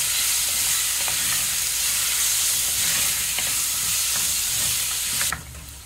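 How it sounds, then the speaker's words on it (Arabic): Tomatoes fry in oil for a Yemeni fahsa, giving a steady, close sizzle broken by soft scraping strokes as they are stirred, with no talk, until the sound cuts off abruptly near the end. "نضيف بعدين الطماطم، نستمر بالتحريك، أهم شيء التحريك."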